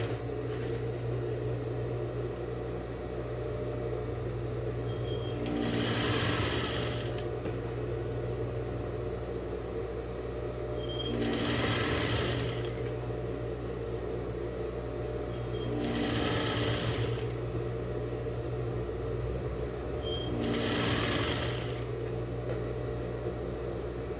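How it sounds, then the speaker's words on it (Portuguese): Sewing machine stitching bias binding onto a dish towel, a soft steady motor hum under four separate bursts of fast mechanical whirring, each lasting a couple of seconds, fairly quiet and close. "E vou costurando ele até eu chegar"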